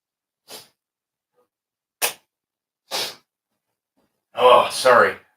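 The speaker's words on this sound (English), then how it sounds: "All that sneezing now." A person sneezes, with three sharp short bursts spaced about a second apart followed by a longer, louder double sneeze, close up in an otherwise quiet room.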